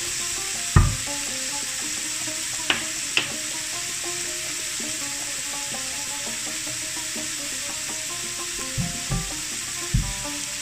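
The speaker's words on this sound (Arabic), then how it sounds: "ضروري نشحروا الاول الفلفله والثومه وهذاك الشيء كامل" Peppers and garlic sizzle steadily in a hot pan, a close continuous fry with occasional sharp knocks and scrapes of a utensil stirring.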